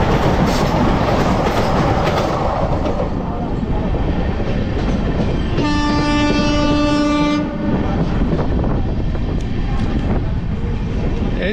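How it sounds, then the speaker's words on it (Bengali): A Vande Bharat express train rushes past on the adjacent track, heard loud and close with roaring wheel and rail noise and a sustained horn blast midway through. "এই দেখুন বন্দে ভারত ক্রস করছে।"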